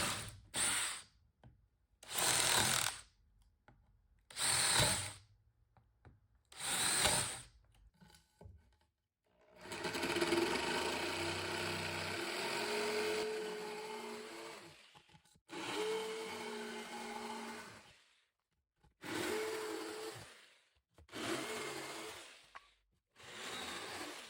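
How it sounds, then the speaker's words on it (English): A jigsaw cuts a hole in a wooden box for a UV resin curing box, heard as several short separate bursts, then a longer continuous whine with a few pauses. The sound is close and fairly loud. "cut along those lines there with the jigsaw"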